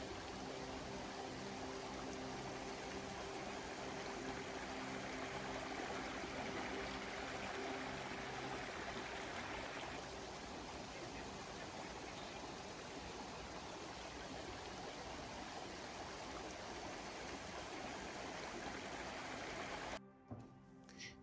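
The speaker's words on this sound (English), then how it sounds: "a gorgeous waterfall, which was a delight to see" A waterfall in Tasmania pours in a constant, full rushing roar that stays level for about twenty seconds before cutting off abruptly, with no voices.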